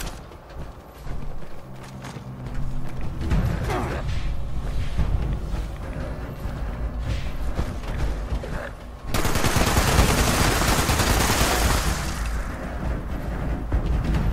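Explosive two-shot .50 cal machine gun in a video game, fired at ghouls in sustained loud bursts of rapid, dense gunfire, building to a heavier barrage of blasts toward the end.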